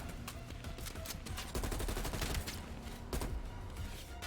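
Dense bursts of rapid gunfire from Call of Duty: Black Ops Cold War campaign, near and continuous with sharper volleys, overlapping shots filling the whole stretch without speech.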